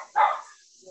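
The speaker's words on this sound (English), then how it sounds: "That's my dog barking." A dog gives a single short bark, faint and somewhat distant, over a quiet background.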